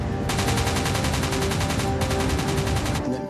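Rapid, evenly spaced bursts of heavy cannon fire aimed at a warship during the Falklands War, a fast rattling volley that breaks off briefly and then resumes before stopping.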